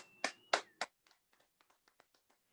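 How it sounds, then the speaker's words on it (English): Scattered clapping from a small audience at a dive bar comedy show, applauding a comedian: three loud, close claps with a whistle-like tone over them, then a run of faint, sparse claps. "Round of applause for Miss Wild Jo"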